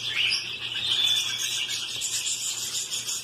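Zebra finch chicks at a larger stage chirp continuously from a nest in an exotic bird breeding aviary, a dense, steady high-pitched twittering that stays close and fairly loud throughout.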